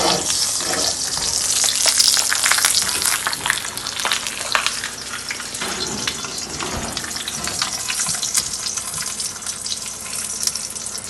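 A large bone-in steak sizzles and crackles steadily on a grill, a dense close hiss that rises briefly then settles, with no talking.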